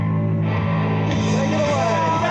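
A band warming up on stage: loud, sustained electric guitar and band noise with shifting tones, heard behind a presenter's voice.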